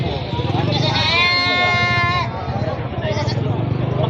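A goat gives one long, loud, quavering bleat close by amid the steady crowd chatter and background noise of a busy livestock auction market in Padre Garcia, Batangas, with people talking throughout.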